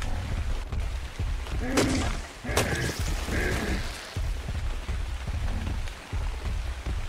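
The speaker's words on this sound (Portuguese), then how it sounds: "Com essa chuva a gente segue." Steady rainfall in the video game ARK: Survival Evolved patters throughout, with a few sharp thumps and bright chiming bursts cutting through the downpour.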